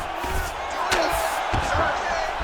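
A virtual arena crowd in the UFC 5 fighting game roars and cheers loudly as the fighters scramble back to their feet, a swelling wash of noise with a couple of sharp impacts.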